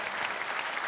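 An audience applauding during a talk at a festival, a dense, steady clapping from a crowd heard briefly and on its own.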